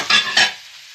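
Chopped, washed leeks hit a hot pan, giving two quick bursts of close, loud sizzling with stirring, then settling into a faint, steady frying hiss.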